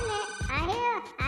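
A telephone rings with a warbling electronic tone, with a voice sounding briefly beneath it.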